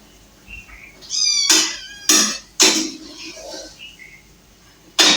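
Several cats meowing in a home, with a high tonal mew followed by three loud, close cries spaced about a second apart and another cry at the end, over quiet room background.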